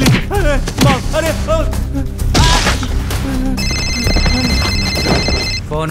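A telephone bell rings loudly and repeatedly amid a tense scene in the film Angry Anna, with people's voices and thuds in the mix, the ring tone standing out clearly over the last few seconds.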